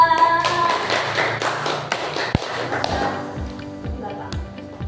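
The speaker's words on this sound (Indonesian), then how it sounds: "Tepuk tangan untuk kelompok 3." Classroom of students clapping for a presenting group during a school lesson, a burst of claps that thins out toward the end as voices take over.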